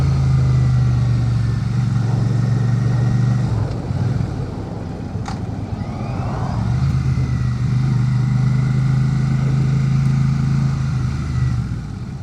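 A Royal Enfield Shotgun 650 motorcycle engine hums steadily and loudly on the road, holding a constant low drone with a brief dip in revs midway before settling back to a smooth cruise.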